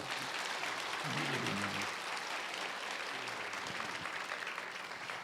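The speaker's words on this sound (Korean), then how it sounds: "뜨거운 박수 한번 주십시오." Warm, sustained applause from a large audience fills a book concert hall in Sejong, a dense steady wash of clapping that holds throughout with a faint murmur underneath.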